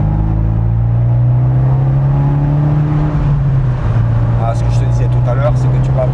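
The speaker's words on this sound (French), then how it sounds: "on va pouvoir écouter un petit peu le moteur se développer un petit peu dans les tours" An Abarth 124 Spider roadster's engine drones steadily while accelerating through the revs on the road, with a low sustained note, a brief dip, then building again, and wind noise throughout.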